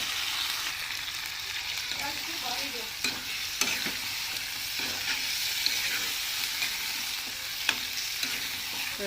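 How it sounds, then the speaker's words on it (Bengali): Chicken sautés with spices in a pan under a steady, bright sizzle, with frequent scraping stirs and occasional sharp clicks of the spatula against the metal. "এখানে দেখো মাংস করে কষানো হচ্ছে"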